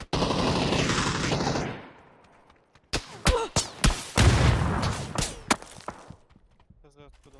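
Gunfire in the battle-royale game PUBG: after a stretch of dense roaring noise that fades out, a series of sharp, loud shots cracks out at irregular intervals, some close and punchy, others quicker, trailing off into faint clicks.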